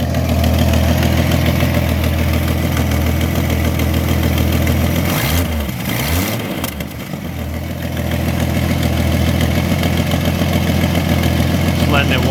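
A 1966 Ford Mustang with a freshly rebuilt carburetor and an exhaust leak at the manifold idles loudly and steadily, with a brief dip and blip in engine speed midway.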